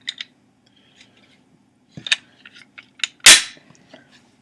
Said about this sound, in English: This gun is loaded, so let me clear.